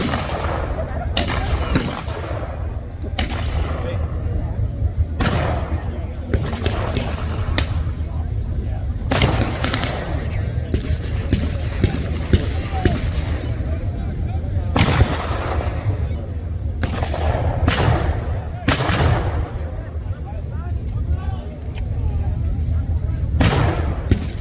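German 88 guns and pack guns fire at a WW2 reenactment battle, sending loud booming blasts roughly every second or two. The shots sound at varying distances over steady outdoor crowd and field noise, with voices faintly present.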